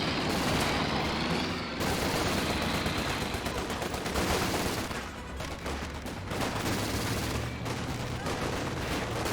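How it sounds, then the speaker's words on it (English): A Company of Heroes 2 mortar shell lands directly on Volks Grenadier infantry amid a dense, continuous battlefield din of rattling gunfire that stays loud throughout, dipping briefly near the middle. "Mortar hits the Volks Grenadiers directly."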